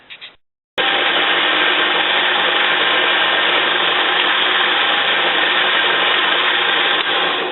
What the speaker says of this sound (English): now I got to go over to the lathe and get rid of that